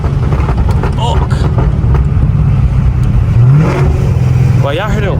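A car engine on a highway revs up and drops through crisp downshifts, the note rising and falling up close under a voice talking over the noise.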